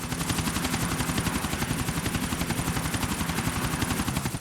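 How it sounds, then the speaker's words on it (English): Helicopter flying in Grand Theft Auto IV, a steady, loud rapid rotor chop with a dense whirring roar running unbroken throughout, no talking. "The helicopter's still flying."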